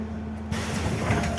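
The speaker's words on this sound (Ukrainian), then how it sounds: "Осторожно, двери зачиняются." Doors of a BKM 32102 city bus closing at a stop: a short mechanical thump followed by a broad hiss of air and engine rumble inside the bus.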